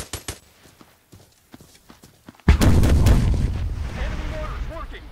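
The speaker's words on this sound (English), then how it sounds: "Enemy mortars working." Enemy mortar fire in the tactical shooter Hired Ops: a few faint distant thumps, then one heavy close blast at about two and a half seconds that rolls into a long, loud rumbling roar and slowly fades.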